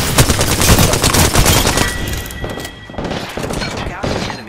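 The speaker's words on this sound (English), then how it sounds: "Enemies are shooting at me." Rapid bursts of enemy gunfire in Apex Legends, dense and loud through the first two seconds, then thinner scattered shots under game voice lines.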